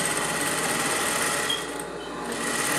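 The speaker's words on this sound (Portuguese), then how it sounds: "Você volta a costura e costura ela aqui" A sewing machine runs steadily, stitching a fabric appliqué for a Tic Tac design, a continuous close whir with a brief dip in speed near the end.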